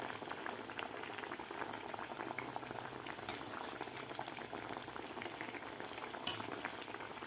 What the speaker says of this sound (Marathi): गोल्डन कलर होईपर्यंत आपल्याला हे वडे तळून घ्यायचे आहेत,